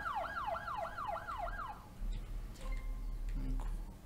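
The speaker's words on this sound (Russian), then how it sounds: "Скорая приехала." An ambulance siren wails in the Project Hospital video game, a fast repeating rise-and-fall tone for about two seconds before cutting off, followed by low rumbling and faint game sounds.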